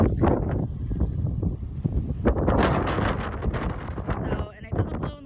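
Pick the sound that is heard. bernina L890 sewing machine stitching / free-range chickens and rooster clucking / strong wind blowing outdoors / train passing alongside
strong wind blowing outdoors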